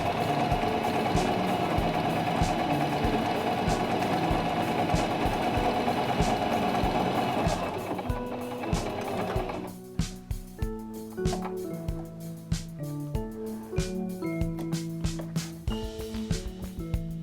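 A Singer mechanical sewing machine stitches a line across fabric with a fast, steady mechanical whir and rapid needle clatter, close and loud. It stops partway, and slower clicks and knocks from the machine follow.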